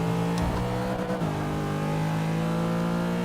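A race car engine from the Forza 6 racing game, driven with a Thrustmaster TX wheel, holds a loud steady tone with a brief pitch drop near the one-second mark as it downshifts, then drones on at a lower pitch.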